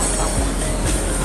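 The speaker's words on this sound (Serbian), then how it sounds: "Podzemni prolaz i ulaz u metro." A Bucharest metro train rumbles past in a steady, loud roar of wheels and carriages, with a faint high squeal running through the brief burst.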